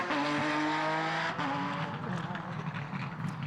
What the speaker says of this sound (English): Some power slides, some spectacular braking at the wheel of his Porsche.